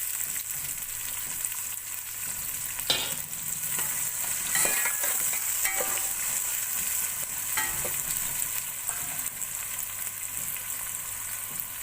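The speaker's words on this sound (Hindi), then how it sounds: "अब प्याज को मैं ब्राउन कर लूँ।" Long-sliced onions for a simple pulao fry over raised heat toward brown, giving a continuous crackling sizzle broken by several clattering stirs of a spoon against the pot, with no talking.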